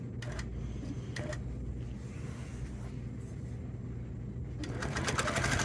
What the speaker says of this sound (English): We don't want to move it if the needle's down, so we're going to start sewing now.